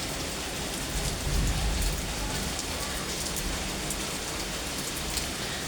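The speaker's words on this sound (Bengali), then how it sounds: "শুধু বৃষ্টি আর বৃষ্টি।" Heavy rain pouring down during a day of continuous monsoon downpour in Dhaka, a dense, even hiss of drops on surfaces, loud and unbroken from start to finish, with no voices.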